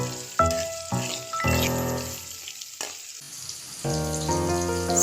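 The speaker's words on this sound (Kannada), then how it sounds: "ಈರುಳ್ಳಿ ಮತ್ತು ಬೆಳ್ಳುಳ್ಳಿ ಹಾಕಿ ಫ್ರೈ ಮಾಡೋದು." Onion and garlic sizzle in a hot pan in bursts, the frying mixed with sustained tonal sounds and an occasional light clink of a utensil.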